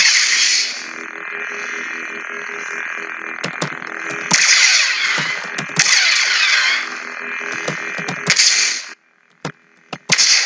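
A Sith Vengeance lightsaber sound font plays from a Proffie board: a steady electric hum with swelling swings and sharp crackling clashes, loud and close, ending in a retraction followed by near silence and a couple of short clicks.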